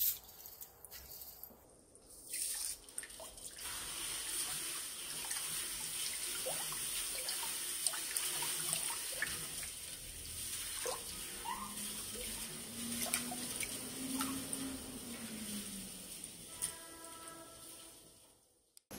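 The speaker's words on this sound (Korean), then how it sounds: "물에 천일염 6줌을 넣고 잘 녹여 소금물을 만들어주세요." Sea salt is stirred into water to make brine for kimchi, a quiet swirling and sloshing of water in a container with small splashes and drips, close up and without talk.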